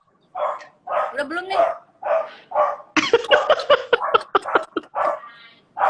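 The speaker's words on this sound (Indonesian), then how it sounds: "Dari tadi tenang, tiba-tiba menggonggong." A dog barks in a string of loud, close yaps and woofs, some in quick bursts. A person talks between and over them indoors during a live stream.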